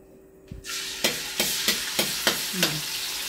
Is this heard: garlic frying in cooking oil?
yes